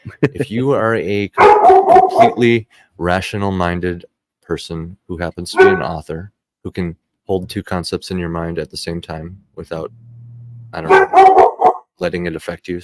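A dog barks in the background of a live-streamed podcast conversation, with brief yaps mostly buried under continuous close talking.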